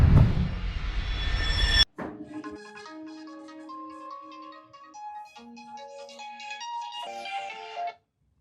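A phone ringtone plays clearly on its own as a bright, melodic electronic tune of stepped tones, entering after a short burst of loud noise and ending suddenly.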